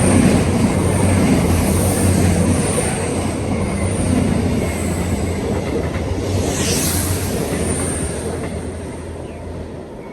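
A Voyager diesel train passes northbound through Kiveton Bridge station, a sustained loud rumble of wheels and engine with faint squeals, slowly fading as it moves away.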